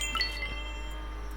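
In a used-car driving video game, a quick run of bright, high chiming tones rings out at the start and fades, over a low steady hum.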